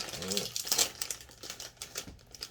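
A bag of spicy Cheetos Flamingo popcorn is torn open, giving quick crinkly rustles and crackles of plastic packaging close up, with a voice speaking over them.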